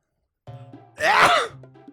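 A single loud, drawn-out sneeze with a wavering, strained tone, close and clear, preceded by a softer intake of breath.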